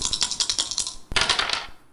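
A game show die is rolled or spun on a Turkish quiz program, giving a quick, close series of hard clattering ticks that pause for a moment, then burst into a second run of rattling impacts.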